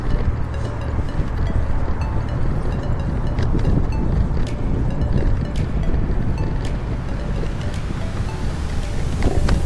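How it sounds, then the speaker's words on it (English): Steady wind buffeting the microphone outdoors, a constant low rumble with gusty texture throughout and no talking. "It's a little windy, but not as windy as normal."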